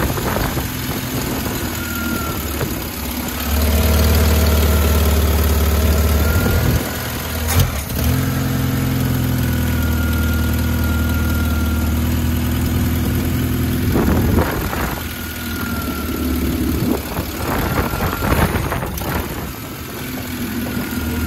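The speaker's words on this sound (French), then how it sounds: "Et essaie de la démarrer là avec le starter." A Lada car engine with a carburettor that is not well tuned, started on the choke, then idling roughly and unevenly with occasional revs. It is loud and close with no talk.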